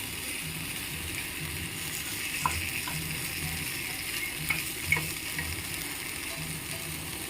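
Paneer pieces fry in a pan with a steady, moderate sizzle, broken by a few light clicks and scrapes from stirring or turning.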